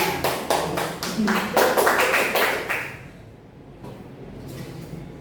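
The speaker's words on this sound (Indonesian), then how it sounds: "Ya, tepuk tangan untuk kelompok 3." A class of students applauds for group 3, a burst of loud, dense clapping that fades out after about three seconds, leaving quiet room noise with faint scattered claps.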